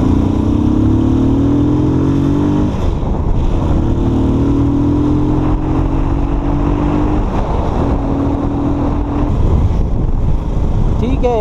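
Hyosung 250cc or Pulsar motorcycle on a ride toward a forest, engine droning loud and close with rising revs and gear changes, wind noise over it.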